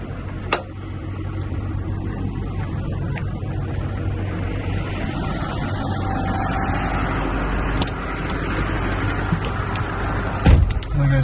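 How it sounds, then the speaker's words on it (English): A pickup truck idles and rolls backward, its steady low engine rumble continuous and fairly close, with a brief clunk near the end and no talking. "So now I get back in the truck and back up."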